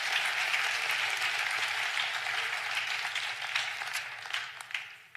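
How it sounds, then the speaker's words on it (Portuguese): A church congregation applauds after a sermon, a dense, steady wash of clapping from many hands that slowly thins toward the end. "Aplausos."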